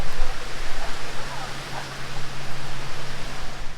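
Steady rain pours down on a hot Philippine house-building site at 81 degrees, a dense, even hiss of falling water that stays close and constant throughout with a low hum beneath it.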